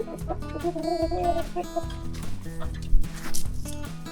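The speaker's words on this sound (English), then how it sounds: "Let's let the chickie babies out." Young chicks cluck and murmur close by in short repeated bursts as they are let out, with a few louder squawks toward the end; no talking.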